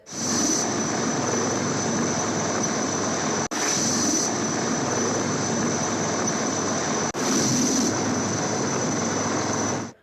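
A helicopter dropping food packets over flood-hit areas drones loudly and steadily for the whole stretch, its engine and rotor roar constant and close, broken only by two brief cuts.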